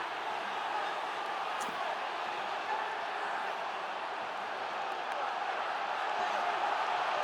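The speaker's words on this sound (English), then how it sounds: "The crowd. That's what I like to hear." Football stadium crowd at an Arsenal versus West Ham match, a broad steady roar of many voices held at a constant level throughout, distant and washy with no single voice standing out.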